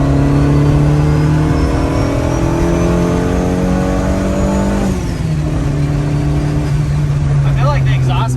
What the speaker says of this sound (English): Now we're actually just cruising like a stock Civic.